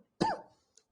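A single sharp cough from a nearby man suffering from a cough, strong and brief, trailing off, followed by a tiny click in otherwise silent surroundings.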